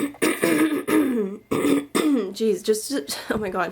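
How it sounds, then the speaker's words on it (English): A person clears their throat several times in short, harsh bursts mixed with brief spoken exclamations, close and fairly loud. "I'm sorry about me clearing my throat so much."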